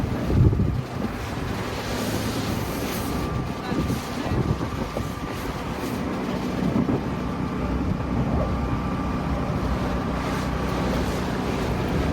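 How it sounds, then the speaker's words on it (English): Strong wind gusting across an outdoor microphone, producing a continuous loud roar and rumble with heavy low buffeting throughout. "And now here comes the wind."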